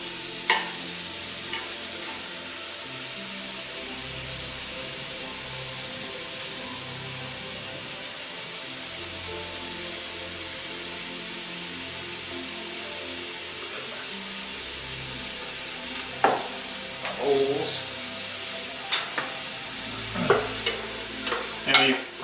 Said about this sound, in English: These were kind of small, but this is still a pretty good amount of onion. And yep, just start to sizzle in here.